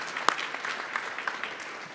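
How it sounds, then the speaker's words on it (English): Brief audience applause at a behavioral health legislative forum in King County, a light scattering of claps with one sharper close clap near the start, fairly quiet and without speech. "we all give a round of applause for everyone with the courage to come and speak to us today"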